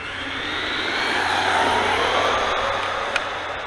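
A HOSIM X08 1:10 scale monster RC truck runs at full throttle on a 3S battery, giving a steady, loud, high-pitched motor whine that swells and fades over a few seconds, ending with a brief tick.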